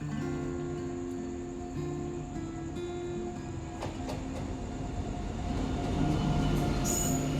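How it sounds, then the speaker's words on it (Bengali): The Sealdah–Bamanhat Uttarbanga Express, train 13147, stands at a station, filling the scene with a steady loud rumble and hum. Sustained tonal whines and squeals sit over it, with a few metallic clanks and a rising surge near the end. "13147 শিয়ালদা বামনহাট উত্তরবঙ্গ এক্সপ্রেস।"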